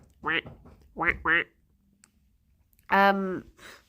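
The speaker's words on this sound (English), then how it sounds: "Oh, ducks." Ducks quack in a few short bursts, two close together and then a louder, longer call, fairly near, with quiet gaps between them.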